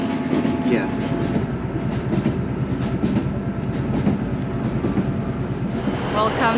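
A train bound for Inverness in the Scottish Highlands rolls along with a steady, close rumble and a rhythmic clickety-clack of wheels on rail joints, with a faint squeal near the end.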